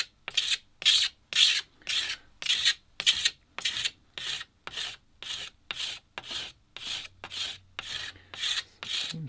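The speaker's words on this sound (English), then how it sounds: "So let's have a go with the scraper. Start to take the varnish off to start with." Hand scraper stripping old varnish from the back of an old yew English longbow, a long run of regular rasping strokes, about fifteen evenly spaced scrapes, close and loud with quiet gaps between them and no talk.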